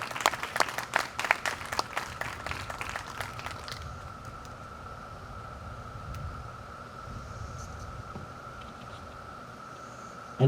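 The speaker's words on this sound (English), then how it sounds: "Please give them a big round of applause." A brief burst of clapping from a crowd at a 5th grade award ceremony fades out within a few seconds, leaving a low room hum and faint background murmur.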